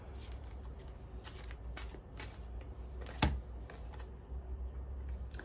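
Holographic moon-themed tarot cards are shuffled by hand in soft, quick riffling bursts with light taps, faint and close, with no talking.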